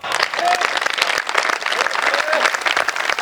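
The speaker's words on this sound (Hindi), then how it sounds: "इसमें कोई ताली बजाने की बात नहीं थी।" Audience applause at a live comedy show, dense steady clapping from a crowd with a few whoops and cheers mixed in, continuous throughout.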